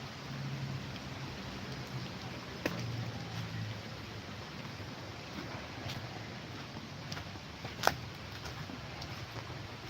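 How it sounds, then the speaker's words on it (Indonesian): Steady rain falls by a river, heard as a constant, fairly faint wash with a few sharp drips or knocks standing out. "hujannya semakin lebat ini sobat nih"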